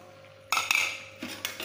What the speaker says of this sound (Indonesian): Oke, kita aduk lagi, kita biarkan sampai kering